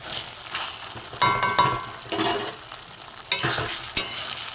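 Ghee going into a pan of gobindobhog rice and pumpkin, followed by stirring: several sharp scrapes and clacks of a spoon over a gentle sizzle, close up with uneven pauses.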